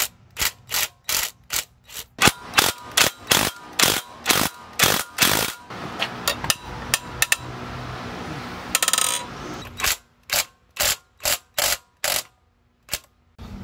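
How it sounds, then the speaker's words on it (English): A ratchet loosens a valve cover bolt on a Nissan Altima 2.5-liter engine, giving rapid bursts of close, loud clicking with a short pause midway before the clicking resumes. "you want to loosen this bolt up, but again, not remove"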